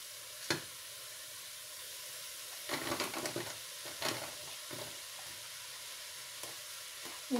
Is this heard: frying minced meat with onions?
yes